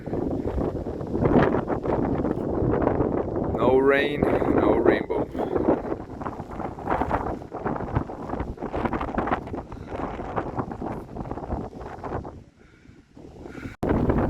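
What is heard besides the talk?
strong wind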